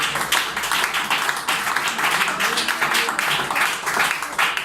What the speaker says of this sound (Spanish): Un aplauso de agradecimiento a Jesús de Nazaret